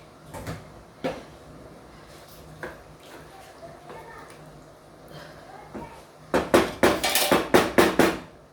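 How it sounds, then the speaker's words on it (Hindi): A cooking pot shifted onto a second stove burner in a home kitchen, giving scattered knocks and clanks, then a quick cluster of loud metallic rattles and bangs near the end. "अब अपन इसको क्या करेंगे, दूसरे चूल्हे पे रख डालेंगे"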